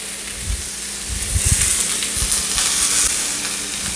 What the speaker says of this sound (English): you're giving it a quick searing around the edges